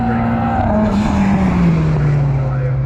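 A Mitsubishi Evo time attack race car on the track at Anglesey gives a loud, continuous engine drone whose pitch falls slowly as it runs. A voice talks under the engine.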